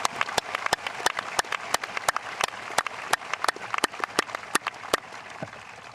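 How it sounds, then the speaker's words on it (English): Applause from a convocation audience, with individual sharp claps standing out over a dense patter, continuing steadily for several seconds. "Will you join me in a round of applause for all of these people?"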